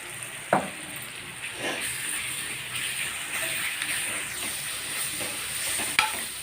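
Ingredients fry in a pan for a pasta and mutton curry dish, a continuous close sizzle broken by a few sharp clinks of stirring, with no talking.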